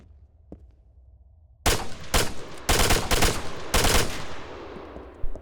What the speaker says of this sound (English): And now I expended all my rounds.